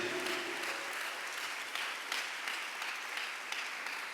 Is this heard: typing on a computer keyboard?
no